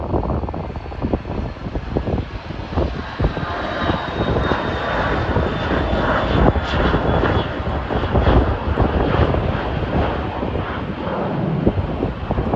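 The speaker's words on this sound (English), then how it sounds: "The Morristown plane is taking off first. It's a Cessna 680 Citation." A jet engine roars steadily as a Cessna 680 Citation business jet powers up for takeoff at Burlington International Airport, Vermont, a loud sustained rumble with a thin high whine above it.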